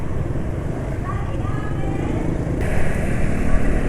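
Close and continuous, a motorcycle engine runs rough and uneven, its worn oil due for a change, with a slight rise in loudness partway through.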